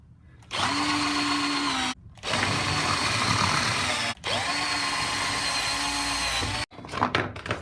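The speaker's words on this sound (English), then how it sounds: "The countersink." Power drill with a countersink bit boring into parts, three whirring bursts separated by short pauses, with some clatter at the end.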